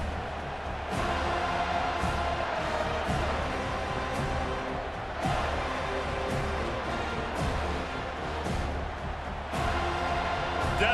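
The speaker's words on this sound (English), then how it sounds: "Decibels rising as the crowd gets behind this defense on third down." Stadium crowd in the video game College Football 25 during a Florida vs Florida State matchup, a constant roaring wash of cheering noise swelling and pulsing throughout, with no clear talk over it.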